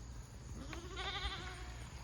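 Goats on a farm giving a single wavering bleat, moderately close, over steady low outdoor background noise.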